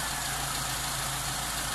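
A Mitsubishi 4G13 engine with a piston-type carburetor idles at about 800 RPM, giving a steady low hum with a faint constant drone and no voices.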